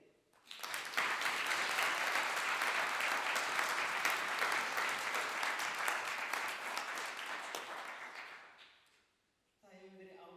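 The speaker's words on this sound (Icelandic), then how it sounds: "við skulum klappa sérstaklega fyrir þeim" Audience applause for teachers at an EPTA piano competition award ceremony, a sustained, dense round of clapping lasting about eight seconds before dying away, followed by a brief voice.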